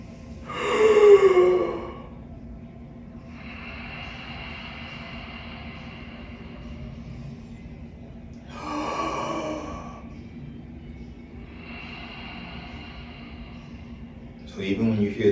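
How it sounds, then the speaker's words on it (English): Sharp breathy inhale, as if from sudden shock, followed by a long exhale through the nose, repeated twice with quiet pauses between, close and moderately loud over a faint steady hum. "I take it in like I just received some shocking news. Then I close my mouth and I exhale through my nose."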